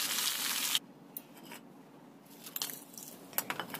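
Fish fried in oil over low heat, a loud sizzle bursting at first and then fading into softer crackling and spitting, with small pops and stirring scrapes near the end.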